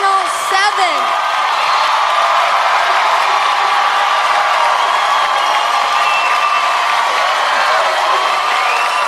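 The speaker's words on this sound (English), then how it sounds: "Enjoy the applause now" A television rock-competition studio audience claps and cheers throughout, with whoops and shouts over a loud, sustained crowd roar and faint music or voices underneath.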